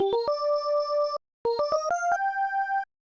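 Synth wave synthesizer tone played alone in two quick ascending phrases of short stepped notes settling into held pitches, clean and bright with a brief gap between them.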